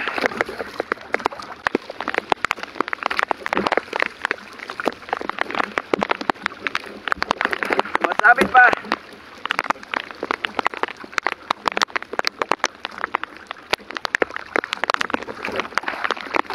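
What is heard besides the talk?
rain falling while fishing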